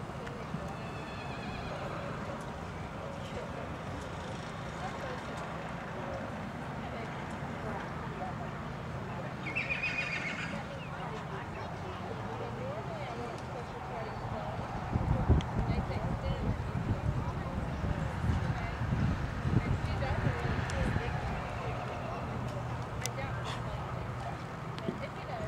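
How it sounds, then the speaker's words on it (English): Horses walk at an arena event, with soft clip-clop hoofbeats, a clear whinny partway through and heavier hoof thuds later, a voice calling over a loudspeaker in the background. "Walk your horses, please walk."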